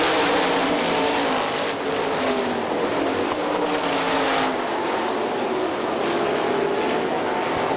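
Sprint cars roar around a dirt oval at Hartford Speedway Park, a loud, continuous snarl of racing engines passing close, the pitch surging and fading as the pack goes by.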